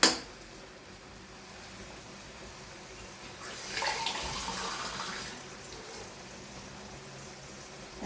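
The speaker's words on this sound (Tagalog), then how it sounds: "Tapos lagyan natin ng konting tubig." Water runs from a tap into a cooking pot for Ilocano pakbet, a steady soft hiss that swells louder for a couple of seconds midway and then falls back to a faint background wash.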